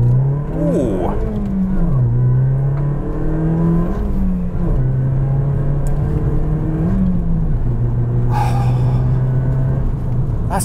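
Toyota Yaris GRMN hot hatch accelerating hard on an airstrip, its engine revving up loudly through several gear changes, each climb dropping back briefly before rising again, close and continuous, with a brief exclamation from inside the car.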